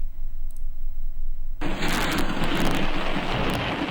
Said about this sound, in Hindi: लाहौर में हफ्ते के रोज़ भी तेज़ बारिश।